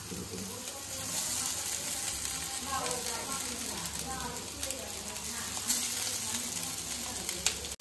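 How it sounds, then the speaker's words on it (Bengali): A pan sizzles steadily as vegetables, chow mein noodles and egg fry, with occasional stirring scrapes and a soft watery hiss throughout. "সবজিগুলো সব ভালোভাবে ভাজা হয়ে গেছে"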